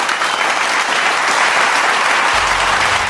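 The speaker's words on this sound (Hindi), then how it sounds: "पूरा सभागार तालियों की गड़गड़ाहट से गूंज उठा" An auditorium audience bursts into sustained, dense applause, a loud continuous wash of clapping that fills the hall without pause.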